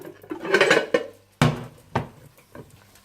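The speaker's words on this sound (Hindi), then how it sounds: "ऊपर आप पैन रखें और इसको उल्टा करके दूसरी तरफ से आप पका लें।" A Spanish omelette is flipped using a plate and a frying pan: a cluster of clattering ceramic and metal knocks, then a sharp clank and a few lighter taps, loud and close with no talk.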